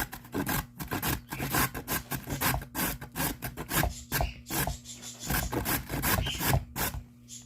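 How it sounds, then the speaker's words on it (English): Vegetables are grated by hand for a parrot chop mix, producing a steady rhythmic rasping with quick back-and-forth strokes, close up and fairly quiet, with no voices. "I'm also going to chop some, or grate some on the larger side, just to add variety."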